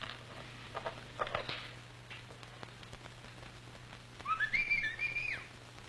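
A man whistles a short rising and falling call outside a house in a 1954 Spanish-language film, heard over steady rain-like background hiss and a low hum.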